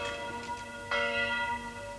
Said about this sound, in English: The bell was rung to summon the militia.